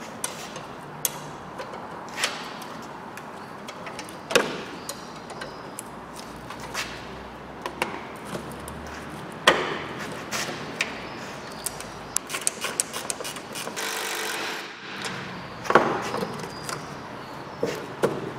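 A ratchet spanner cracks loose the top mount nuts on a Ford Mondeo MK4 front strut, giving a string of close, sharp clicks and ticks with occasional louder knocks over a quiet background.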